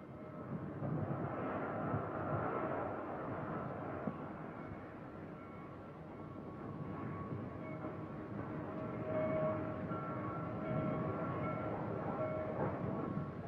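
Norfolk and Western freight train cars being cut out and switched in a yard, a continuous rumbling, rattling rail noise heard from a moderate distance, with faint metallic tones and no voices.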